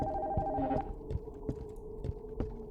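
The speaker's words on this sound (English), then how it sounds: "Phone upstairs is ringing." A telephone rings upstairs in a horror video game, a faint muffled ring beneath low throbbing ambient hum and a few soft thuds.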